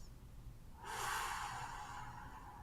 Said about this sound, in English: breathing in for 3 seconds, holding for 1 second, and then breathing out for 6 seconds